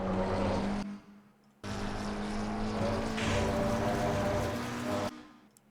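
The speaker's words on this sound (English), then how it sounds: "I'm gonna short shift to third, small lift, back on the throttle." A race car engine in a racing video game revs hard, cuts out briefly during a short shift to third gear, then pulls again and drops off near the end.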